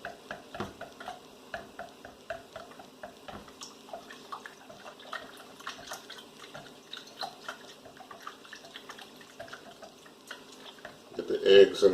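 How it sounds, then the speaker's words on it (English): Eggs beaten with milk in a bowl for chicken wing batter, a quick rapid clicking of the whisk against the bowl that carries on steadily, with a louder clatter at the end. "I'm just going to beat these eggs up"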